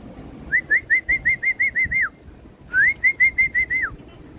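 Birds arriving at a racing pigeon loft during a race homecoming, heard as two quick runs of repeated clear whistled calls, each series of about eight short rising notes, fairly close with a quiet pause between them.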